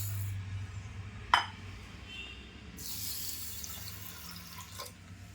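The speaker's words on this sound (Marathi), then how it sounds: "तर आता तांदूळ पहिला मी धुवून घेते." Basmati rice is rinsed in water in a bowl or sink, a quiet steady swish and trickle with a sharp clink partway through and louder splashing toward the end.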